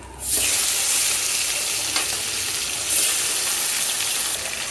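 Koi fish sizzle steadily as they fry in a pan of hot oil, a loud continuous hiss with soft stirring and crackle throughout, and no voices.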